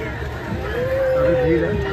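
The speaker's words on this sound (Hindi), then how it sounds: "काफ़ी भीड़ है।" A large crowd gathers for a Ganpati immersion at a riverside spot, a continuous wash of voices and bustle, with a sustained tonal call rising above the babble partway through.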